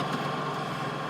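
A John Deere tractor engine idles while snowblowing, giving a steady, dense drone with a constant low rumble and broad mechanical hiss that holds unchanged, fairly close and loud.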